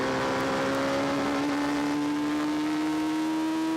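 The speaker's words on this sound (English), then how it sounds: "SR3 sports cars as we go around McLean's" A steady engine drone with a slowly rising pitch as Radical SR3 sports race cars circle Donington Park, continuous and moderately loud.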